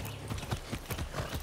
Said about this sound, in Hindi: घोड़े को राइड कर रहा हूं।